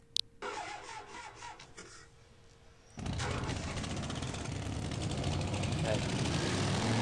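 A scripted motorbike engine in the game Second Life starts up into a loud, steady buzzing drone that holds to the end, after a quieter stretch with talking.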